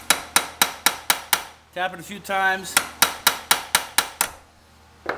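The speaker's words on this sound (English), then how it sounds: "we're going to take a center punch, and we're going to find the center of the bolt" A hammer taps a center punch against a broken bolt in sharp, metallic strikes at a steady rhythm, about a dozen in all. Someone speaks briefly between the two runs of taps.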